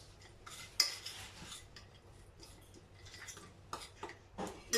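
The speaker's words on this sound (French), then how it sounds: "Je mélange." A utensil clinks and scrapes against a dish while sardine marinade with harissa and lemon is stirred, scattered light taps and scraping close by at low level, with no talking.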